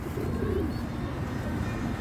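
A white homing pigeon coos softly at close range, a low murmuring call amid steady outdoor background noise, alone with no talk over it.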